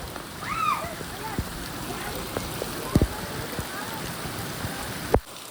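Steady hiss of heavy rain falling and pattering on surfaces, with a few sharp knocks and a voice speaking briefly underneath.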